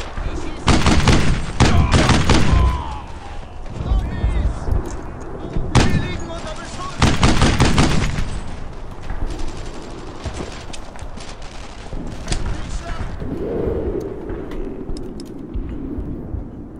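Gunfire in the World War II shooter game Brothers in Arms: Earned in Blood: loud bursts of rifle and automatic fire, heavy at first then sporadic, with people talking throughout.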